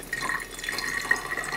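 Cooled beer wort poured through a sanitized funnel, a short, close liquid splash and gurgle of steady pouring, with no voices.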